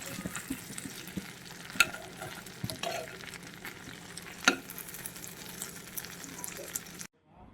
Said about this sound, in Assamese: আৰু ইফালে পটল ভাজি